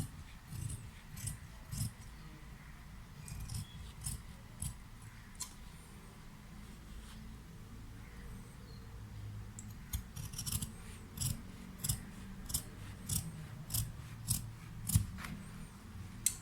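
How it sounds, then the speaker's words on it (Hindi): Scissors cut fabric along a marked neckline: a series of crisp, close snips and blade rasps, sparse at first, then coming in a quicker regular run, with no talking. "अब इसको हम इन्हीं निशानों से काट लेंगे।"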